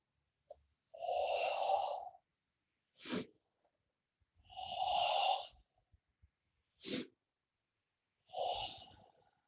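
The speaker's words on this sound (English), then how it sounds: "Breathing in." Slow, deliberate breaths during a Gyrokinesis class exercise: three long airy inhales alternate with short sharp exhales, close and clear against a quiet room, with no talking.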